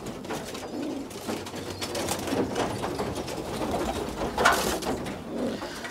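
Pigeons coo softly and repeatedly as they come in to feed, a low murmuring chorus close by with scattered flutters and small noises. A brighter burst rises near the end.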